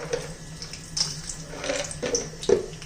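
Peanuts fry in hot oil in a kadai, giving a soft sizzle with scattered crackles and pops, alone and fairly close.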